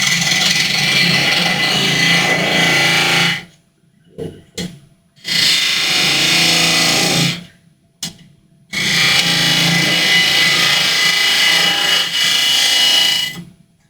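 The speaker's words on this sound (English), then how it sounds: "I'll go back to my spindle gouge, take a right little fine cut" A spindle gouge takes fine cuts on a wooden apple spinning on a lathe, a loud steady scraping hiss in three long passes broken by short silent pauses.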